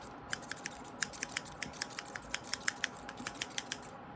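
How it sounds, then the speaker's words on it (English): Scissors snip close to the ear in quick, crisp clicks, about a dozen cuts in a steady rhythm against a quiet background. "I'm just going to use these scissors again."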